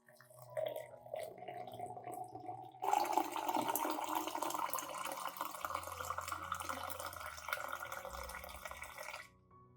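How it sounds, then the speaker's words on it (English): Boiling water is poured into a glass jar of chopped shallots, a steady splashing pour starting after a short quiet lead-in and running several seconds, close and soft, then stopping. "Then add 500 milliliters of boiling water."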